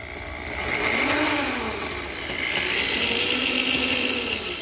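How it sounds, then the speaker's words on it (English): A power drill spins a cheap fishing reel, giving a steady, loud whirring hum with high buzzing tones that rise and fall slightly as the speed wavers, heard close up with no talking. "now when the drill turns, it'll turn the reel."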